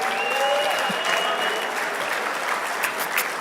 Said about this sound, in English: let us give this brother right here a round of applause